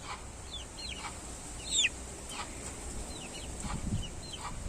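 A hen, the mother of a brood of chicks, gives a few soft clucks and short chirping calls, sporadic and at middle distance over a low background rumble.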